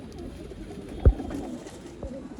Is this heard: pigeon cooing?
yes